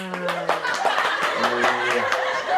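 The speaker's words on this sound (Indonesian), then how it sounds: "Tepuk tangan semuanya." Hands clapping at a children's toy unboxing of My Little Pony Equestria Minis, a burst of quick close claps mixed with voiced laughter and chuckling.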